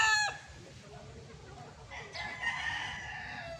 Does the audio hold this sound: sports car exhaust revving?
no